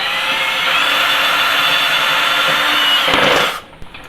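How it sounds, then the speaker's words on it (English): A power drill whines steadily as it bores through wood for a stove vent box, the motor droning loud and close before cutting off near the end. "But I'm drilling through the hole in the middle of it."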